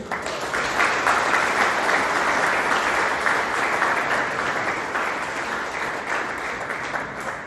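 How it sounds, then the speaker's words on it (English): Wedding guests applaud the couple at a ceremony at Peterson House, Pokolbin: warm, sustained clapping from a crowd that swells early and stays dense, then tapers slightly toward the end. "Round of applause to you, beautiful people."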